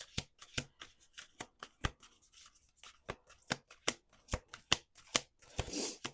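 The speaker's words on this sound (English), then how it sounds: "Last shuffle." A deck of playing cards being shuffled by hand, with a series of sharp riffling bursts and snaps repeating at an uneven rhythm, close and clear, ending in a longer rustle.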